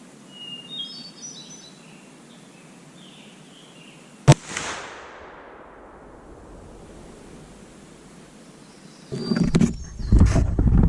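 A single sharp shot from a Thompson Center Hawken .45 muzzleloader rifle cracks out against quiet outdoor ambience, followed by a long decaying rumble, with later handling noise near the end.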